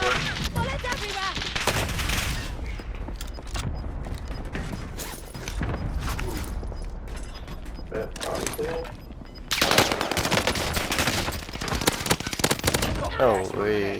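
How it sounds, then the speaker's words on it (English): Bursts of automatic gunfire crackle through a Warzone match with the H4 Blixen, dense rapid volleys running across the whole stretch, loud and close, with a heavier barrage near the end. "Bullets everywhere!"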